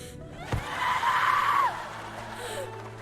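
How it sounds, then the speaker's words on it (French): A woman's drawn-out scream from the next room, rising after a sharp thud and lasting about a second before fading, somewhat muffled and distant over low background noise. "Dans la pièce voisine, une femme crie."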